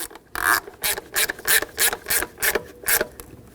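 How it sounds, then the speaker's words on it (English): A 10 mm ratchet snugging the mounting nuts on knock sensors of a 2011-2020 Dodge Grand Caravan 3.6L, giving a close, steady run of about eight rhythmic ratcheting clicks and rubs, alone without talk. "Now with your 10 millimeter, snug them up."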